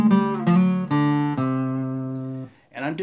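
Acoustic blues guitar lick played with hard downstrokes, heard as a few loud, ringing picked attacks that sustain and slowly fade before a short fresh strum near the end, alone with no talking.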